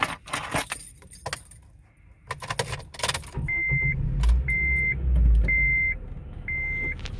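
Keys jangle and the car's warning chimes beep repeatedly before a 126,000-mile Acura RSX cranks and starts with a low rumble, then settles into a steady idle nearby.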